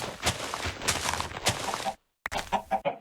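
Chickens in the video game Minecraft cluck in short, repeated bursts, fairly close, with a brief silent gap before several quick clucks follow.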